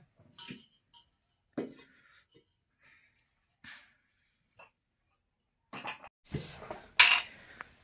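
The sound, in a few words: cooking pot being placed on the stove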